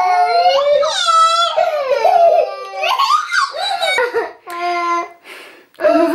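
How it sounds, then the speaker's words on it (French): Several children crying and wailing as grandparents leave, high sobbing voices rising and falling close by, with brief breaks between cries. "ça c'est des enfants qui pleurent parce que papy et mamie s'en vont."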